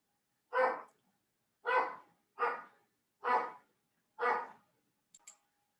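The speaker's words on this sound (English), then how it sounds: "I apologize for my dog there" A dog barks five times at an even, measured pace, each bark sharp and close with clear silence between, then a faint short yip.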